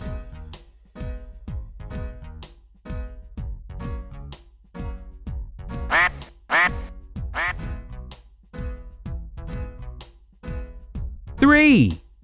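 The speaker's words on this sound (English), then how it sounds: "Ducks." Cartoon ducks quack a few times over an upbeat children's nursery-rhyme tune, the quacks loud and close in short clusters near the middle and end, with the music continuing underneath.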